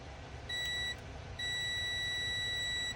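Steady electronic continuity beeps from a multimeter testing a switch during a signal booster power repair, one short tone and then a longer sustained tone, close and clear over faint background hiss.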